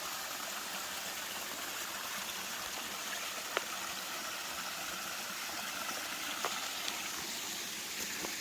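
Steady rushing water roars continuously from a distant waterfall on the Appalachian Trail, with a few faint clicks and no talking.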